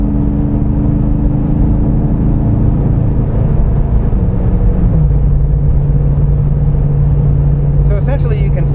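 A heavy Jeep JK with an LT 6.2 engine and 40-inch tires climbs uphill at about 2,000 RPM, its steady low engine drone and road rumble continuous and loud throughout, with a brief clatter near the end.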